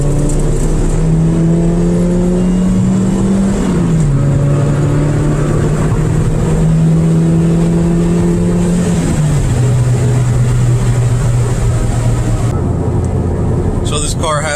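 A 1994 Mazda MX-3 with a 1.6-liter engine, stock intake and stock exhaust, drones steadily from inside the cabin while driving at night, its pitch stepping down between gears, loud and continuous.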